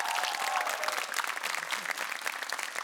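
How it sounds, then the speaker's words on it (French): Studio audience applause on a French entertainment show, a steady dense clatter of many hands sustained throughout with no voices over it. "Je les applaudis."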